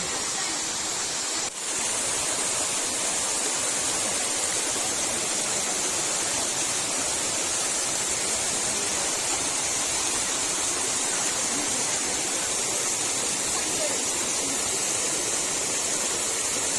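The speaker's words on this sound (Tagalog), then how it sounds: "this is the Bottom Falls" Ng Tung Chai Bottom Falls in Hong Kong roar as a steady, full rush of falling water, close and loud, continuous throughout with no talk.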